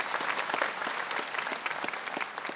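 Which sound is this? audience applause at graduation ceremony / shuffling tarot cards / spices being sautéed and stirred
audience applause at graduation ceremony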